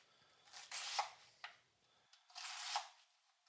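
A knife slices a cabbage into long strips for sauerkraut, giving two longer crunchy cutting strokes separated by a few short crisp cuts, close and fairly quiet.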